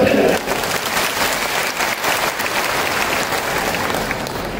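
Audience at a community gathering clapping together, a steady dense applause that holds evenly for several seconds, fairly close and loud.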